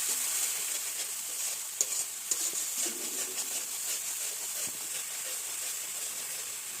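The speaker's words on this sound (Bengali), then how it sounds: "সব কিছু দিয়ে আবার একটু ভেজে নিতে হবে হালকা হাতে" Potatoes for a potato curry fry and are gently tossed in a pan with salt and spices. A continuous soft sizzle and hiss sits close by, broken by a few sharp clinks of the spatula against the pan.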